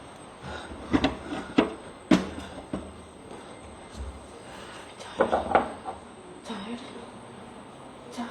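Kitchen dishes, pots and utensils knock and clatter in scattered bursts, a few sharp clanks standing out over household background noise, with people talking nearby.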